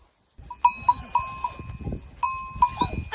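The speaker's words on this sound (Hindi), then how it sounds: "सुबह सुबह पहाड़ से नीचे भेड़ बकरियों का रेवड़ गुजर रहा है।" A flock of sheep and goats passing down a mountain in the morning, with a string of clear ringing bell clanks at an uneven rhythm over soft hoof and movement sounds, fairly close.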